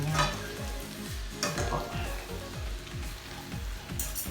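Pork and pancit noodles being stirred in oil in a pan, a steady sizzle with repeated scraping strokes of a utensil against the pan in a loose rhythm, close and moderately loud.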